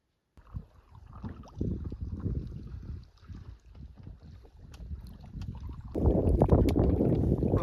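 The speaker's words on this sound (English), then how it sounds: "A little gusty out on Rush Lake here, but not too bad." Gusty wind on Rush Lake in the Boundary Waters, roaring in uneven gusts across the microphone over water sounds from a canoe, growing stronger and louder toward the end.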